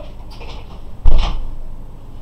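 An office door swings shut with a single loud, hollow thump midway through, preceded by faint room noise and followed by a brief low rumble as it settles.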